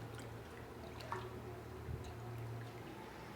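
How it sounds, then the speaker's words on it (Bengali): Vegetable stems are washed by hand in a water-filled pot during home cooking, giving soft splashes, drips and wet squishes, faint and close with no talk. "এই যে ধুইতেছি"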